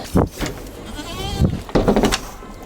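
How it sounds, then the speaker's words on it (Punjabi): A large-framed goat on a Punjab farm keeping Barbari and Beetal goats bleats in a few wavering calls close by, with people talking briefly around it. "ਬਹੁਤ ਵੱਡੇ ਫਰੇਮ ਦੀ ਬੱਕਰੀ ਆ"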